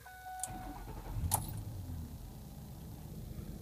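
A 2006 Ford Expedition with 190K miles and a bad alternator fires up after a brief crank, then settles into a low, steady idle, heard fairly quietly and close by.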